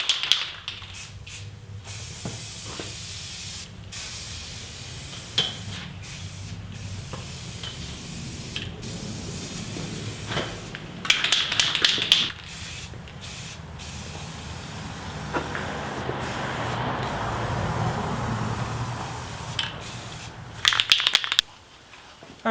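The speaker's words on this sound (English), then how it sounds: "just spray a really light first coat, and then a light second coat, and then a third coat" Aerosol spray paint can hissing out light coats onto bare metal, in repeated short and longer bursts of broadband hiss with brief pauses between, close and moderately loud, no talking.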